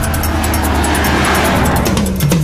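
A 2015 Volkswagen Golf R hatchback's engine drones loudly and steadily while the car is driven hard, with its pitch climbing toward the end. No voices are heard.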